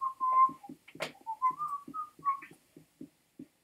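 A person whistles a wavering, bright melody up close, with a steady series of soft rhythmic thumps beating under the tune in a game setting.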